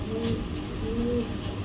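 A red Spanish Pouter cock pigeon in breeding mood coos, two low rolling coos in a row, close and fairly soft over a steady background hum.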